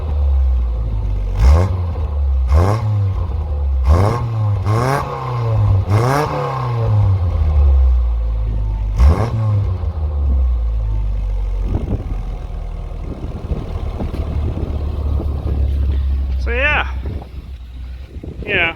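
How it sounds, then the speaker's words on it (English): Engine and exhaust of a 1985 Toyota Tercel SR5 wagon, revved in several rising and falling pulls, then settling to a droning idle, loud and close with a voice speaking over parts of it. "Let's get the exhaust sound there."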